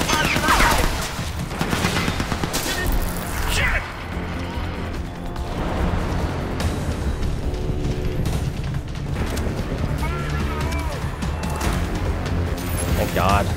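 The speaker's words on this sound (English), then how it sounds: "it's a freaking turret" Rapid automatic turret fire in the video game Crysis 3, a loud sustained burst of gunfire with crashes and booms throughout, while a person talks over it.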